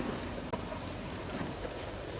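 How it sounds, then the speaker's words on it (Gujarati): Rain falling steadily outdoors during a heavy downpour, a dense even hiss with a single brief knock midway, no talking. "અને વરસાદ હજી ચાલુ જ છે."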